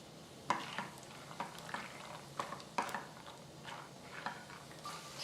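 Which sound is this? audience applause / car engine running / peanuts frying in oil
peanuts frying in oil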